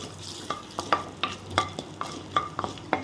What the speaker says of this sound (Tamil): இதை நல்லா மிக்ஸ் பண்ணி விட்டுக்கோங்க.